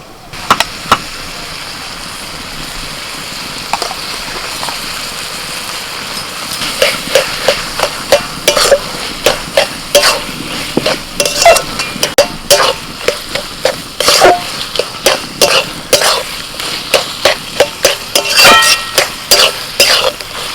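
Mashed boiled potato is worked into a pan with a utensil, giving a quick run of sharp scraping and tapping knocks that grows busier and more rhythmic partway through, close and fairly loud.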